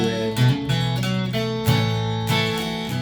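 A guitar plays an ornamental riff option for a song: steady strummed chords with short melodic fills in a bright, continuous sound, loud and close, with no voices.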